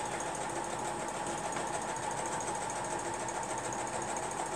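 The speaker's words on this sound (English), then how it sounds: "I can stand up and I can sew." A Harvey's Diamond 6 sewing machine stitches in a steady, close mechanical whir that runs evenly throughout, with no voices.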